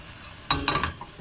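A utensil scrapes and clatters in a frying pan of scrambled eggs in a few quick strokes, with a faint sizzle underneath.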